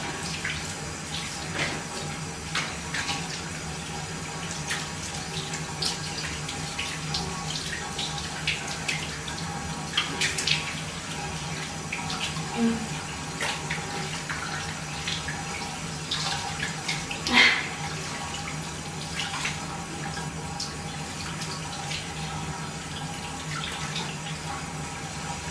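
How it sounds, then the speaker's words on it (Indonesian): Tap water running steadily into a sink while someone rinses their face during a morning skincare routine, a continuous close splashing hiss with small splashes and no talk. "aku bilas dulu"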